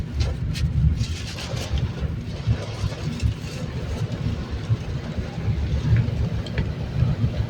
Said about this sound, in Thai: ตกค่ะฝนตกค่ะกรุงเทพตกระเบิดระเบ้อเนาะ